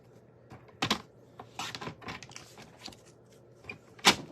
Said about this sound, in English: So I'm going to cut my 4-inch cut first, and then my 5 1/4.